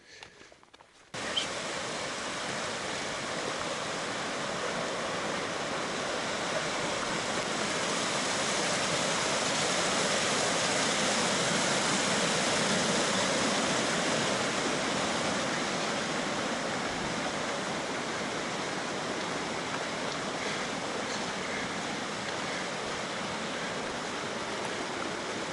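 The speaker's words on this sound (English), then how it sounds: "this is Frenchman Creek" Frenchman Creek on the Colorado Trail rushes in a steady, broad, continuous flow, close and loud throughout, with no voices.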